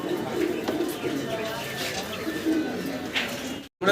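Pigeons at a breeder's loft coo softly in repeated low calls, close by, with faint chirps and a background murmur.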